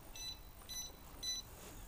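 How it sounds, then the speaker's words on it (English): A motorcycle disc lock alarm gives three short, faint electronic beeps in a steady rhythm, spaced about half a second apart against quiet background noise. "and an alarm"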